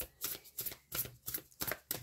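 Tarot or oracle cards are shuffled by hand for a reading draw, giving a quick series of soft riffling flutters in a steady rhythm, about seven bursts in two seconds; close, fairly quiet, with no talk.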